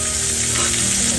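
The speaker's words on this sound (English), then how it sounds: "Half a tablespoon of butter in our skillet." Half a tablespoon of butter sizzles loudly and evenly in a skillet on the stove, a dense, close frying hiss lasting only a moment, with no speech.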